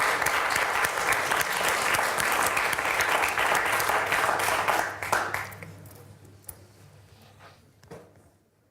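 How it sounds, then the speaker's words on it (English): A science panel audience applauds its panelists. Loud, dense clapping from the crowd fills the room for about five seconds, then thins out to scattered claps and fades away. "Let's give them a round of applause."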